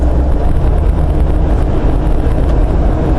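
Steady, loud roar of tire and wind noise inside an LS-swapped Jeep JK cruising on the freeway, a constant low rumble with airy hiss and no talking.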